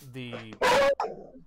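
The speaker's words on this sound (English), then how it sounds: "That was my dog going crazy." A dog lets out a single loud, harsh bark close to the microphone, cutting in right after a voice, with talking resuming straight after.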